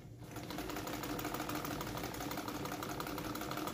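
A Singer 66 sewing machine runs steadily, stitching fabric at a medium-long stitch length. The needle drive makes a continuous, close, fast mechanical whir and chatter with no voices.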